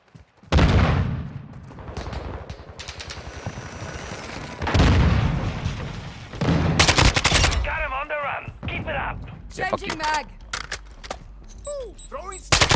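A gun fires repeatedly in Call of Duty Modern Warfare 2, in loud, close bursts of rapid shots throughout. Game explosions boom at times, and someone talks over the later part.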